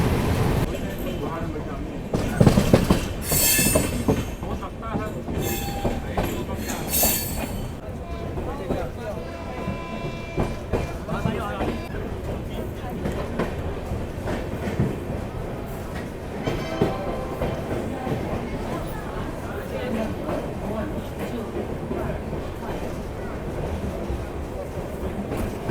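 Continuous rumbling roar and rattling clatter of the Yesvantpur Gorakhpur Express passing close by on the next track, heard from inside a moving train with wind buffeting, steady for the whole stretch with some voices underneath.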